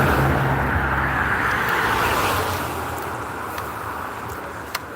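A car passes on a country road between Hollym and Withernsea, its broad road noise strongest at the start and slowly fading as it moves away, with no talking.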